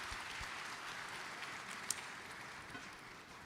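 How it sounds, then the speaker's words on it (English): Conference audience applauding the panelists at a finance and technology forum: a steady, faint wash of many hands clapping from a distance, with no one speaking over it. "Maybe you give a round of applause to the panelists"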